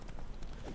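Horse hooves clip-clop in a quick, even rhythm in the fantasy video game Witcher 3, a short soft burst of steps with no talking.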